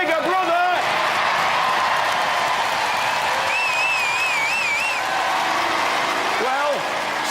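A Robot Wars studio crowd roars and cheers in a steady, broad wash of noise, with a voice speaking over it and whistling tones rising above.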